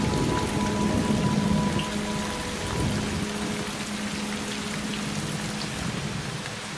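Rain falls steadily in western Tasmania, a close wash of patter and drops with a faint sustained tonal hum underneath during the first few seconds.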